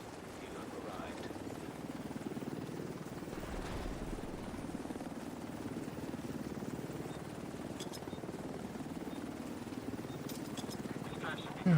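An extraction helicopter in The Division 2 arrives with a steady, droning rotor thrum that holds at a constant loudness for about twelve seconds, mid-distance, with no clear talk.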